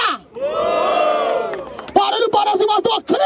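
A crowd at a Brazilian rap battle in Barueri cheers, whoops and shouts loudly and close by, with a long sustained roar followed by choppier bursts of yelling.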